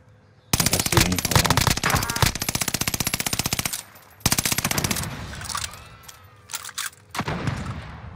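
Loud automatic gunfire from the video game Warzone comes in long rapid bursts, stops briefly, then returns in shorter volleys with echoing tails.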